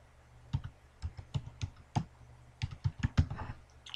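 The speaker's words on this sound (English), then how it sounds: "we'll type in the domain name, which is workgroup" Keys clatter on a computer keyboard in quick, uneven bursts of close clicks with short pauses between groups, no talking.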